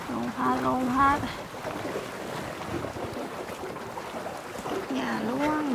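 Wind gusts blow steadily across the microphone in a rough, rushing roar while people talk over it.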